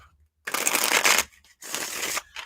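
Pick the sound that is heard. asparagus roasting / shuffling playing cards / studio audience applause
shuffling playing cards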